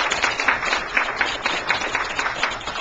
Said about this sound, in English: Let us give these officers a round of applause that they so richly deserve